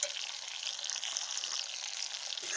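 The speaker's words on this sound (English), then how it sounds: "fry it up now with the mackerel" Mackerel frying outdoors with sweet pepper and garlic gives a steady, close sizzle with soft crackling that holds evenly from start to finish, with no talk over it.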